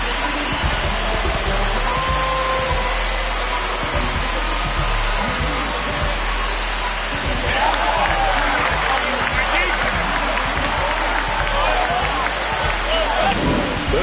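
Video-game stadium crowd in MLB The Show 26 roaring and cheering after a home run in a Dodgers–Rangers game, a steady wash of noise swelling louder midway under an announcer's commentary.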